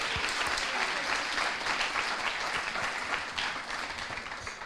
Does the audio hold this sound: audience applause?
yes